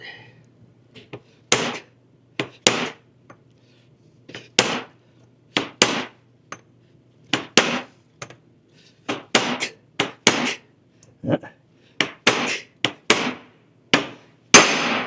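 Sharp metallic hammer blows drive a part onto a shaft during a Scout 800 restoration, striking repeatedly, sometimes in quick pairs, with brief pauses between; close and fairly loud, with no talking.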